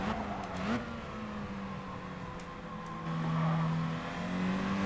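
Race cars running a race on worn tyres, engine notes rising and falling as cars pass at a distance, with a louder surge partway through.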